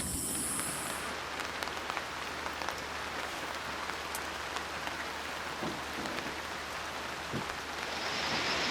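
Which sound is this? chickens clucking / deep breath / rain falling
rain falling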